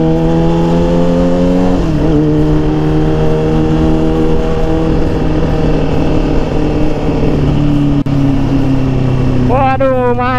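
A Yamaha R6 sport motorcycle engine hums steadily and close as the rider filters through traffic, with its pitch dipping and swelling and a sharp rev rising near the end, while voices talk over it.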